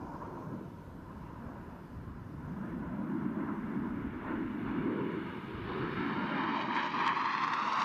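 Jet aircraft in diamond formation accelerate through a descent at the NAS Oceana air show, a distant roaring engine rush that slowly builds and brightens, heard outdoors without talk.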